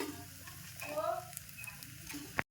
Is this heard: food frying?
yes